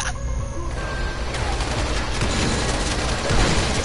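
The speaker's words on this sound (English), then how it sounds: "I'm literally shredding him." Rapid automatic gunfire in the zombie game Dying Light, a dense sustained burst of shots that runs nearly unbroken from start to finish and stays loud and close throughout.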